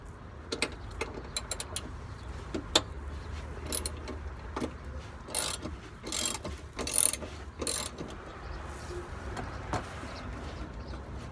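Ratchet clicks from a 12 mm socket backing bolts off an NA Miata, arriving in uneven bursts of sharp metallic ratcheting with short pauses between them, close by and with no talking.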